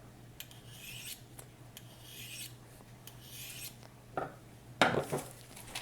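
Spyderco Tenacious knife blade being sharpened with repeated rasping strokes, faint and close, with a few louder scrapes and clinks near the end.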